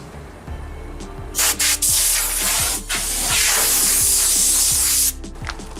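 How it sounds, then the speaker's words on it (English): Canned air blasts debris out of cracks in a car's paint in loud, hissing bursts: two short puffs, then one long sustained spray lasting several seconds before cutting off. "it wouldn't hurt to use a little canned air if you don't have a compressor"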